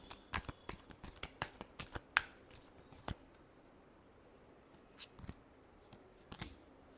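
Tarot cards are shuffled in a quick burst of crisp riffling clicks and snaps, which thin out to a few scattered taps in the quiet that follows.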